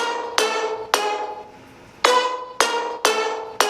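Bright, punchy synth stabs, six chords hitting in a syncopated pattern, each with a sharp attack and quick decay into a brief tail.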